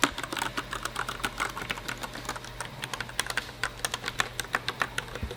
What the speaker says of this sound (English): here's just a quick sound clip of the actual key sounds.